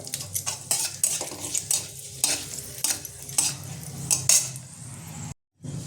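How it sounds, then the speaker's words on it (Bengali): Steady sizzling of bay leaves and dry red chillies frying in hot ghee, with repeated spoon clinks and scrapes against the pan throughout. "দিয়ে দেবো তেজপাতা আর শুকনো লঙ্কা। শুকনো লঙ্কা একটু ফাটিয়ে দিলাম।"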